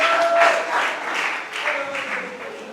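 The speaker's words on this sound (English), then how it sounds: "A resounding applause." An audience at a college theater performance applauds, a lively burst of many hands clapping that swells and eases in waves over a few seconds.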